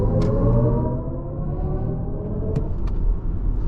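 A 2024 BMW iX xDrive40 electric SUV drives with a steady low road rumble and a rising electric motor whine as it accelerates hard, with a couple of faint clicks.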